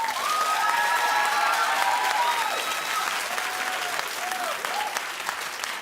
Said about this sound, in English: Clap if you have a type,